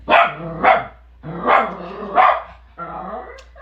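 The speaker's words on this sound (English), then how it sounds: "He barks at everything and anything" A dog barks in bursts of two, several sharp yapping barks fairly close and loud against a quiet background.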